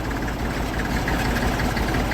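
Tractor engine idling while reversing, a steady low diesel rumble with a rough, knocking pulse, close and loud, running continuously with no voices over it.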